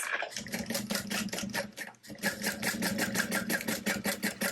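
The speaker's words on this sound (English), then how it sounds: "we'll just go ahead and sew that into place" A sewing machine stitching a backpack seam, rapid even motor-driven needle strokes with a brief pause near the middle before the steady stitching resumes.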